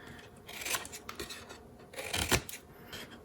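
Scissors or a craft blade angle-cutting pieces of a folded cardboard candy box, heard as a few close, crisp snips and scraping cuts with short pauses, the loudest bursts near the end.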